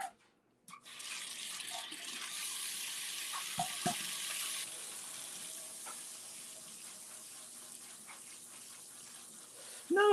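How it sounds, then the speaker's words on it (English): Tap water pours in a continuous, moderately loud hiss over a hot cast iron pan in a kitchen sink, with brief clatters as the pan shifts, then the flow fades slightly before a final knock. "Dylan, no, you're putting water on the cast iron"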